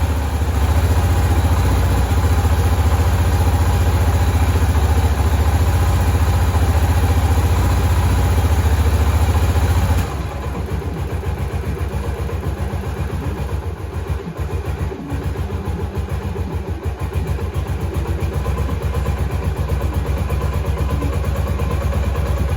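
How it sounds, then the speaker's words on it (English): A rebuilt Yamaha XBR motorcycle engine idles steadily and evenly, a constant low rumble with no mechanical noise or other sounds; partway through the tone drops slightly and keeps running. "Very quiet engine, no mechanical noise."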